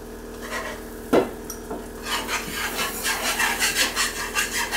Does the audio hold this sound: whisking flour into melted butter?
yes